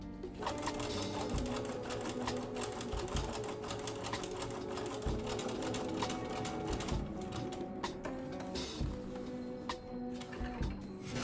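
A sewing machine runs steadily, stitching down a flat felled seam on a pair of pants, a loud continuous rapid mechanical chatter with a few brief changes in pace.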